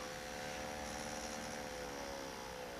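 A small light-powered motor spins at high speed, around ten thousand RPM, giving a steady whirring hum with a fine buzzing tone, close and constant throughout, no talking.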